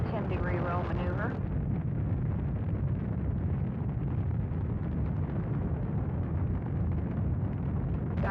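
Space shuttle's three main engines roar through launch, a loud, continuous broadband rumble with crackle that fills the whole stretch, with a brief voice at the start.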